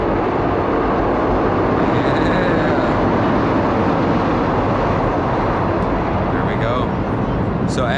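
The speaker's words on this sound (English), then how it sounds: "Got the train coming by right now." A train passes near a winter crappie fishing spot, giving a loud, steady rumbling roar that fills the whole stretch without letting up.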